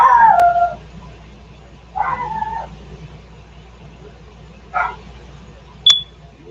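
A dog howls in a long wavering cry, then gives several shorter whimpering howls spaced a few seconds apart over quiet background hum, close and fairly loud.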